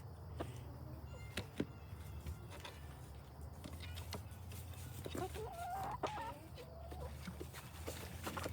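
Kiki, a pet chicken, clucks softly in a few brief bursts against low steady background noise, with faint scattered knocks around her.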